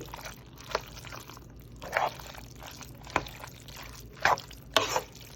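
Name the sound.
stirring ground beef filling for shepherd's pie in a pan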